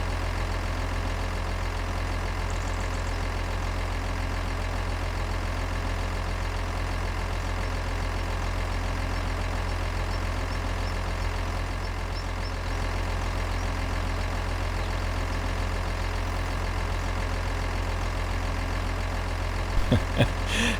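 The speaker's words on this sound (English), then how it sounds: "Listen to the engine." A heavy truck engine idles steadily with a low, constant rumble, close by and unchanging, with a brief clatter at the very end.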